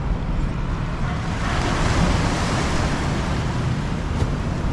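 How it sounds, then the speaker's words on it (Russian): Sea waves break on rocks below a Phuket viewpoint, a loud, continuous roar of surf mixed with wind buffeting the microphone, with no voices. "Давайте сейчас еще волны дождемся."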